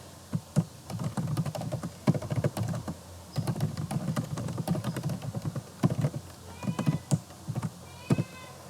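Steady typing on a computer keyboard at a command-line prompt, brisk uneven clusters of close key clicks with brief pauses, alone without talk.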